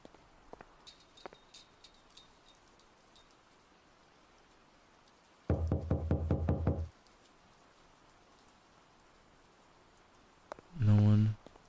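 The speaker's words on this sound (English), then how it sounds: "We're knocking pretty heavy" Heavy knocking on a door in a horror video game: a fast burst of loud, solid raps lasting over a second, then a quiet stretch, then another loud cluster of knocks near the end, over faint ambient rain-like noise.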